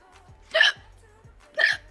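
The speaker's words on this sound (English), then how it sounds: "Hiccups today" Two distinct hiccups, about one second apart, sharp and close, from a person in a quiet room.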